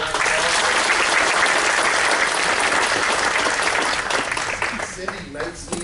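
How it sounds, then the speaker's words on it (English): A lecture audience claps loudly and evenly for assistant Cindy Fritz, a full burst that fades over the last second and a half. "Everybody please give a round of applause."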